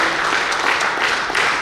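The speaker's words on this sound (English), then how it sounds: "I request everybody please stand up and clap together" Audience at a team fest event applauding together after being asked to stand, a dense, steady wash of clapping filling the room at close range without a break.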